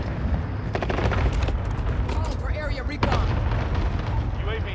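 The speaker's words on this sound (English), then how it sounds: "Cluster strike is out." Cluster airstrike in a military shooter video game: a dense run of booming explosions and sharp bursts rolling over one another, loud and continuous, with player voices talking over the blasts.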